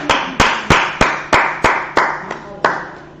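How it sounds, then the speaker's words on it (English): A class claps in unison, about nine sharp, evenly spaced loud claps in a steady rhythm, each ringing briefly in the room before the next, with the last few slightly softer. "I want to say, clap it up,"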